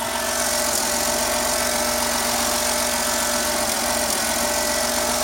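A Dodge Caravan engine with a cooling-system fault idles steadily after startup, a close, constant, even mechanical hum with no talking.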